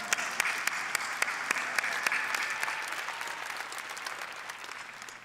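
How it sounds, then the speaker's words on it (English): An audience at the 2018 Olympia bodybuilding weekend claps in a sustained burst of applause, dense and fairly loud with sharp individual claps standing out, gradually thinning toward the end. "Let's give them all a great big round of applause."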